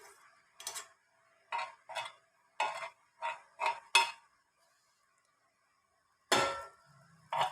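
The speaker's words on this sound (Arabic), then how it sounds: "هنا وضعت القلاية وأدهنها بشوية الزبدة" A frying pan set on a stove and greased with butter gives a scattered series of short metallic clinks and scrapes, separated by quiet gaps, followed by one longer scraping clatter near the end.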